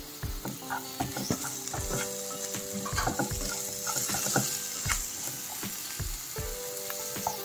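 Green beans fry in a pan with a steady hiss of sizzling oil, punctuated by clicking, ratchety scrapes of stirring at close range, no voices present.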